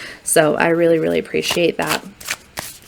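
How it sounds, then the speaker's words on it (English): Tarot cards from a Buffy the Vampire Slayer deck are shuffled, a few quick papery riffles and snaps heard close by under a person talking. "let's do a card shuffle."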